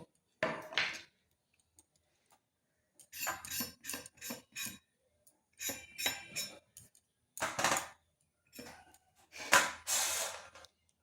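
Pointed gourd is peeled and cut on a boti blade, with bursts of quick scraping and slicing strokes close by, separated by short silent pauses and ending with a louder chop.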